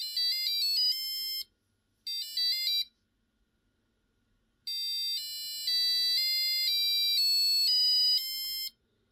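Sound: Arduino passive buzzer tone at 500

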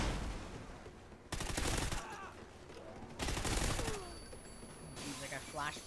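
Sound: assault rifle gunfire in Call of Duty Ghosts video game

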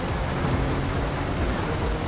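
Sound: rain in the video game GTA V

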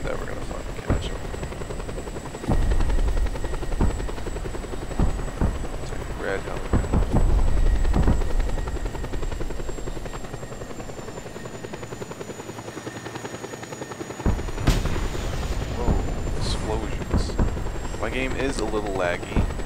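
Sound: helicopter in video game Just Cause 2 Multiplayer

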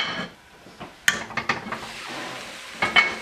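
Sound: butter melting in a covered pot with chicken, onion, garlic, carrots

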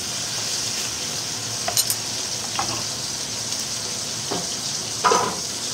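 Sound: chicken sizzling on the grill

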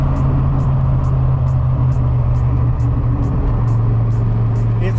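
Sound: turbocharged Foxbody car engine revving

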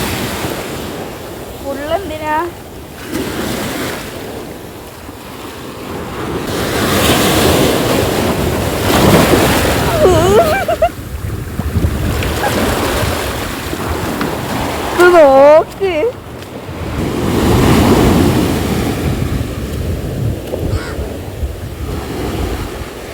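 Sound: sea waves breaking on the shore

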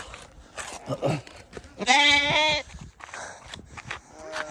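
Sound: lamb bleating

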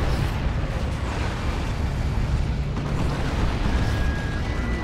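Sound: Rocket Run explosions in video game Dawn of War 2

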